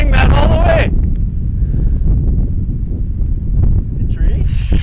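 Wind gusting across an outdoor golf course, heard as steady low rumbling buffeting on the microphone, with a person speaking briefly at the start.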